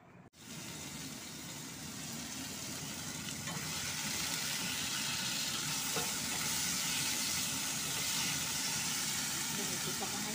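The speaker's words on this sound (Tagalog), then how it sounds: "Binigisa ko na yung bawang luya kamatis." Garlic, ginger and tomato sautéing in a pan: a loud, continuous sizzle that starts after a short pause and swells slightly before holding steady, close by.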